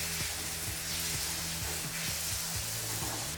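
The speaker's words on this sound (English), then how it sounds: "You see the shrimp cooking in these juices, that's where all the flavor is" Shrimp sizzle and fry in a wok for egg roll filling, a steady close crackling hiss running alone throughout with faint stirring scrapes.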